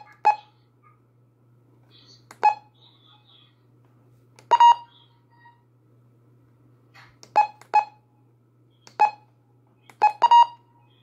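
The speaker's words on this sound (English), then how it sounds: "But here are the button beeps." Button beeps from a Honeywell RN507W radio: a series of short, sharp electronic blips, some single and some in quick pairs, spaced irregularly across a quiet background with a faint low hum.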